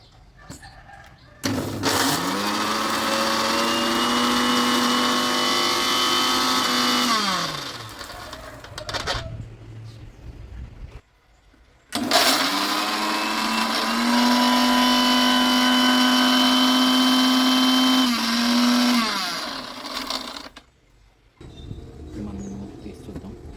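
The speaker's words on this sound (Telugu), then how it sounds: "ఇప్పుడు మిక్సీ చేసుకుందాం" A mixer grinder grinding curry leaves whirs loudly in two long bursts of several seconds each, separated by a short pause, with its pitch dropping as each run winds down.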